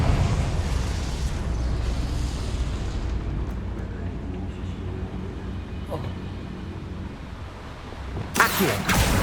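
Confringo explosive spell cast in the Hogwarts Legacy video game, a sustained rumbling blast that holds steady and then ends in a sharp crackling burst near the end.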